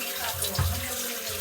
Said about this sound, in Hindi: केले मैंने धो दिए हैं